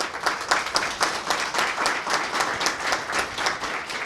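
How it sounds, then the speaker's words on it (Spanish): Steady applause from a crowd, many hands clapping continuously at an even pace throughout. "María José y al profesor Máximo Calzado, para los cuales pido un fuerte aplauso"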